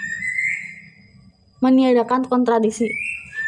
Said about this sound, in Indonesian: kalau misalkan ada suara-suara burung atau apa, karena di rumah emang melihara burung